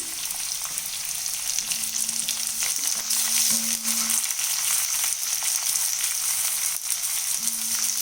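One small chopped onion fries in a pan for rava upma, giving a steady, close hiss of sizzling with only faint stirring and a low background hum, no voices.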